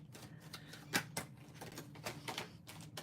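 Tarot cards being shuffled by hand in a quiet room, giving soft irregular riffles and flicks with a few sharper snaps, close by and fairly faint, with no talking.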